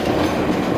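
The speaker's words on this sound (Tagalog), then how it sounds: "Bye train!" A train passes close by in Japan, its heavy rolling rumble and rail clatter steady and loud across the whole brief moment.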